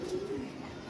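Pigeons coo in a short, soft, low burble close by, with faint background noise and no clear speech.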